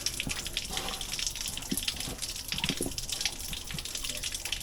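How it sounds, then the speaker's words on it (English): Tap water gushes steadily into a pan while cooking Jamaican-style curry chicken foot, a continuous splashing rush with scattered drips and clinks, fairly close. "More water."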